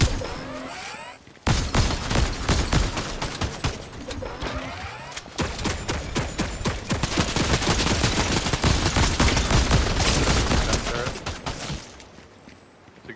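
A deployed gun turret fires in the video game Fortnite, loud rapid bursts of automatic gunfire in dense runs broken by short pauses, with voices chatting over the shooting.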